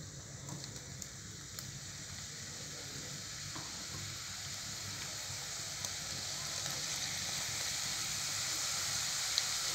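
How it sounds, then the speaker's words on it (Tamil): Mini pooris fry in hot oil, dropped in one at a time, giving a steady, soft sizzle and hiss that swells slightly over the span with no one talking. "இப்போ ஒன்று ஒன்றா போட்டு பொறிச்சு எடுத்துக்கலாம்."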